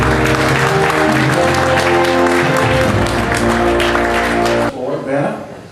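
An audience at an awards event applauds a speaker's introduction, loud sustained clapping that mixes with a voice over a sound system and cuts off near the end.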